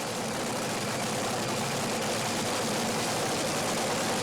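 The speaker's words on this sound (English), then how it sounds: "Both cars fired up now." Top fuel drag racing cars just fired up at an Andra drag race, engines idling with a dense, loud, unbroken rumbling roar that holds steady throughout.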